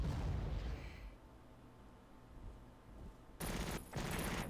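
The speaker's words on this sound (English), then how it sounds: "But this heavy artillery absolutely does its job." Heavy artillery in the Panzer Corps strategy game, faint overall: a low boom fades out early, then two sharp bursts of fire follow near the end, with no talk.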